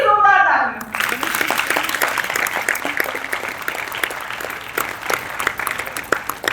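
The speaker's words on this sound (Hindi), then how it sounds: "मैं चाहूंगी जो नींद की ईंट है यानी जो मंच परे के लोग हैं उनके लिए जोरदार तालियां।" Loud audience applause for the backstage crew at a stage storytelling event, a thick wash of many hands clapping that starts abruptly after a brief voice and carries on steadily.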